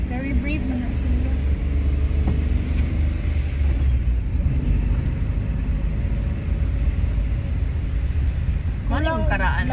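Car being driven during a driving lesson, a constant loud engine and road rumble heard from inside the cabin throughout, with people talking over it.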